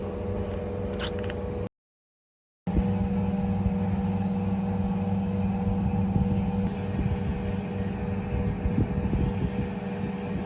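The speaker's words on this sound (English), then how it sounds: "Sorry for the engine noise, that's the elevator motor going on" A rooftop elevator motor drones steadily in Hong Kong, a loud continuous mechanical hum broken by a short gap of silence before the low engine-like whir resumes and carries on alone.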